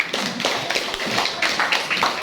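A short burst of clapping from a small group of schoolchildren in a classroom, brisk and fairly close, with uneven hand claps running together.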